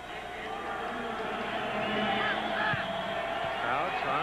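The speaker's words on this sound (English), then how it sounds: "Crowd trying to help out the remaining fans here on third and long" College football stadium crowd at a 1997 Utah State versus Idaho game on third and long, a sustained loud roar of cheering and yelling that swells slightly, with distant whoops.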